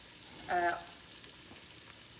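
Onion sizzling with spices in a hot pan, a soft continuous fry with a short louder burst of crackle near the start, quiet and close.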